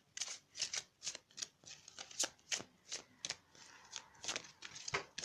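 Tarot cards being shuffled by hand, a steady run of about a dozen soft, riffling swishes and slaps at close range, quiet and rhythmic with no voice.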